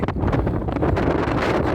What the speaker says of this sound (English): Very windy today, as you can hear.